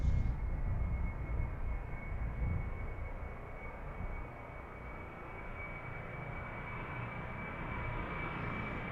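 A UPS heavy jet departs runway 31 at night at Harrisburg airport, its engines a steady, broad roar sustained throughout with a faint high whine, no talk over it.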